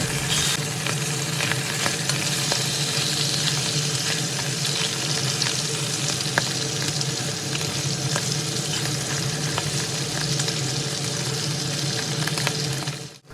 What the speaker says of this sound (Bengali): গরম তেল কড়াইতে খুব ভালোভাবে লাগিয়ে দিয়ে এর মধ্যে একে একে প্রথমে মাছের টুকরোগুলো দিয়ে ভেজে নেব